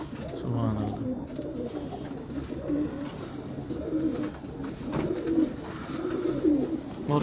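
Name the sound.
pigeons cooing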